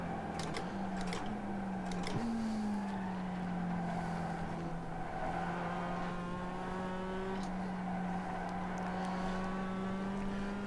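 A car driven hard in a sim racing game as its weight shifts and the grip turns loose. A steady engine drone holds high revs throughout, with small rises and dips in pitch and no pauses.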